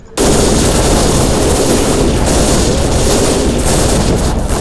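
Dense, continuous gunfire from the video game The Fall: Last Days of Gaia, loud and sustained throughout with rapid overlapping shots and no pauses.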